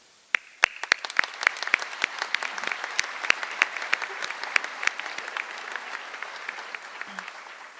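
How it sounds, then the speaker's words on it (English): Applause at a university nursing pinning ceremony starts suddenly and builds into steady clapping from a modest audience, crisp and individual claps audible, fading slightly toward the end. "For this, we congratulate and applaud you."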